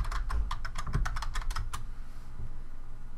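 Typing on a computer keyboard close by: a quick run of crisp key clicks for under two seconds, then quieter scattered taps over a low background hum, no voices.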